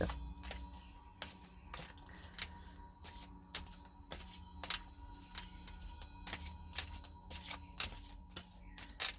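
Tarot cards shuffled by hand for a card reading, a quiet, close run of crisp riffling snaps and flicks repeating in an irregular rhythm over a low steady hum, with no talking.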